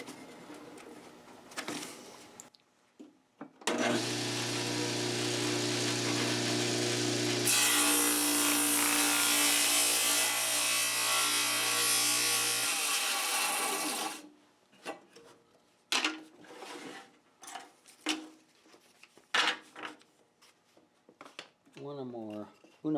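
Sawing tapers in wood for a turkey whirligig, a loud steady rasping cut lasting about ten seconds, with quieter scraping and handling before and after and a voice talking at the end.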